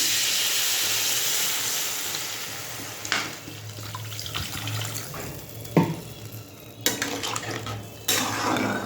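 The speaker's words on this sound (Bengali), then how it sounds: "এই দেখো এবারে জল দিয়ে দিলাম।" Water poured into a cooking pan holding cauliflower with onion, cumin and coriander powder, heard as a splashing, running stream with clinks of metal cookware and a few sharp knocks in between.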